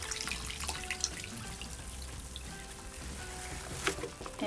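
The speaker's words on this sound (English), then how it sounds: "So I'm going to just drain some of this water here." Water running and trickling from a basin as it drains after rinsing hand-knit pieces, a steady close wash of flow with small splashes and drips, no voices.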